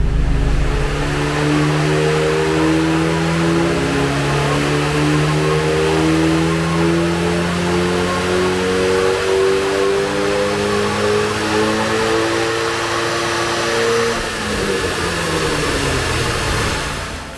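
An Alpine A110 S engine revs repeatedly during a tuning session on a hot day, its pitch rising and falling in long sweeps, loud and continuous with no talk.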